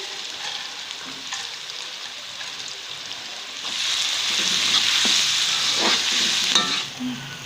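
Curry leaves and black pepper fry in ghee with onions for matar keema, making a steady hiss that grows louder midway, with intermittent stirring scrapes close by.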